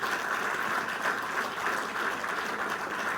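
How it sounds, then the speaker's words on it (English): An audience at a launch event for an ExxonMobil-Guyana STEM initiative breaks into sustained applause, a dense, even wash of clapping that carries steadily from start to finish. "I think that deserves a round of applause"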